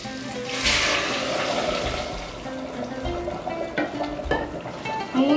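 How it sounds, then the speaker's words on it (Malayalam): Boiling water poured into a small pressure cooker holding chicken pieces for Arabic madghut rice, a sloshing, bubbling splash in short bursts, fairly close. "ഇനി നമുക്കിതിലേക്ക് തിളച്ച വെള്ളം ഒഴിച്ചു കൊടുക്കാം."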